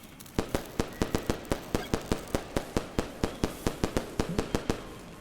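Firecracker string going off in the video game Animal Well, a rapid even series of sharp pops, about twenty in a row, loud and crisp with no talk.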